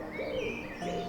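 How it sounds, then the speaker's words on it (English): Birds singing and cooing outdoors, a dove-like call carrying over steady ambient background, close and moderately loud through a brief stretch. "Can you hear the birds sing?"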